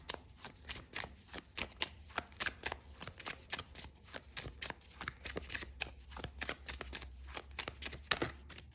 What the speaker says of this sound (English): So I'm going to get a few clarifying cards.